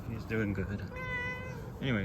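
A pet cat meows plainly and close by during a garden tour at a house, a drawn-out cry heard under and between a person's casual talk.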